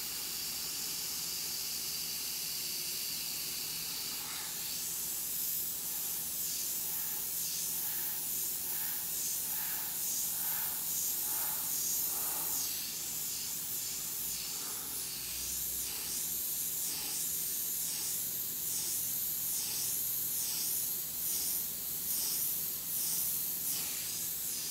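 An airbrush hisses steadily as it sprays paint onto vampire lips, a soft continuous airy spray with gentle pulsing stretches, close and quiet, with no speech.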